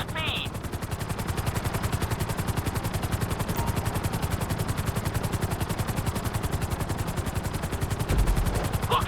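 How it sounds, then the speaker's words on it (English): Helicopter flying in Grand Theft Auto V during flight school, a loud, steady rapid rotor chop pulsing throughout with a continuous engine whine, close and dominant. "Let's go on a short tour of the city, and we'll see how well you handle the chopper."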